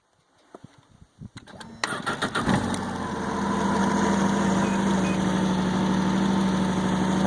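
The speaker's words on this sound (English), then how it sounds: "So we'll start the machine up here." A Ski-Doo Skandic 900 ACE snowmobile engine cranks in a few uneven bursts, catches and then settles into a steady, even idle that holds close and loud to the end.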